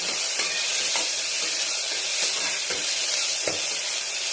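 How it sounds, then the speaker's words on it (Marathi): Ginger, garlic and coriander paste sautés in a pan for a mutton curry, giving a steady, dense sizzle throughout with faint scraping from stirring. "थोडासा कच्चेपणा जाईपर्यंत ह्याला आपण परतून घेणार आहे"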